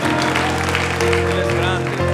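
A church congregation claps for the King during worship, a broad patter of hands mixed under loud sustained music and a voice.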